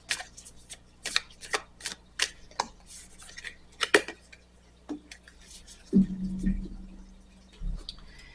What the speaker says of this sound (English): Let's go ahead and get you a Moonology Oracle.